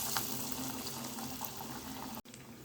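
Lentil vadai dropped into hot oil fry with a steady, close bubbling sizzle, a broad hiss that runs evenly and cuts out for a moment near the end.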